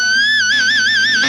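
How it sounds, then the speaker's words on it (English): Squealing electric guitar pinch harmonic, a single high sustained note that swells and then wobbles with fast, wide vibrato, loud and alone. "So the other thing we get there is what's called a pinch harmonic."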